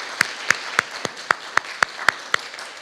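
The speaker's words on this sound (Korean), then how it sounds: "우리 찬양대 모두에게 다시 한번 뜨거운 감사의 박수 한번 하겠습니다" Church congregation clapping in unison for the choir, conductor and accompanist: about nine sharp, evenly spaced claps in a steady rhythm, moderately loud with a quiet room behind.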